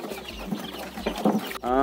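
Farmyard chickens being let out of their coop in the morning, clucking in short close bursts, with a rooster-like call rising at the end; a voice talks alongside.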